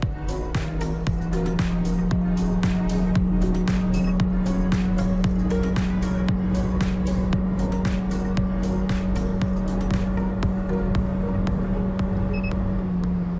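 A Honda Fit Shuttle hybrid idles, then its engine is held at about 1500 rpm with both pedals pressed. It makes a steady low hum inside the cabin, with a scatter of faint clicks and no talk.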